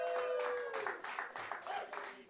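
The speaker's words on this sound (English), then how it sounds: "So let's give him a round of applause" A small audience at a poetry night at The Old Western applauds in faint, somewhat uneven bursts of clapping, with a soft tonal sound drifting underneath.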